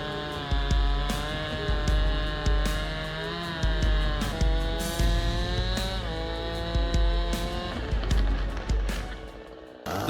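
Two big chainsaws, a Stihl 090G and a McCulloch 797G, rip through solid timber with a loud, continuous roaring drone that surges and dips as the chains bite, plus sharp bursts throughout.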